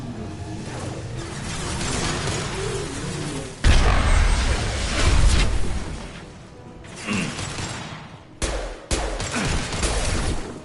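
A grenade blast and gunfire in a Mass Effect 2 firefight: a heavy boom hits partway through, followed by rolling rumble, scattered shots and abrupt bursts, all loud and close with no talking.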